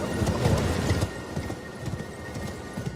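A horse galloping in a video game: quick, repeated hoofbeats thud along at close range over a dense, noisy background, fairly loud at the start and easing slightly, with no voices.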